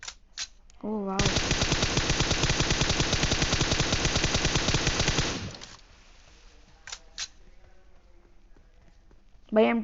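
An M249 machine gun in PUBG Mobile fires one long loud sustained burst of rapid, evenly spaced shots close by, then cuts off, leaving faint game noises and a few brief tones.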